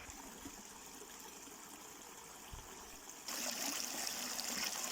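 The Strzeszynianka river stream flowing, a steady hiss of running water that rises to a louder rush partway through, continuous with no voices.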